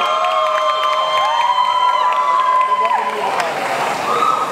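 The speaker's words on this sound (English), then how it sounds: "Please, guys, give Aminat a big round of applause." A pageant audience clapping and cheering for a contestant, a dense continuous roar of applause with whoops and high shouts layered on top, loud and sustained throughout.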